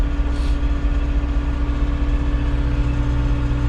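Diesel engine of a cab tractor running steadily during hay season, a continuous loud droning hum with low harmonic tones held throughout, heard from inside the cab.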